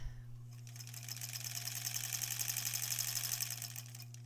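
A sewing machine stitches quilt scraps for an improv-pieced granny squares quilt, giving a steady close whir with a fine rapid needle rattle that runs unbroken for several seconds, with no voices.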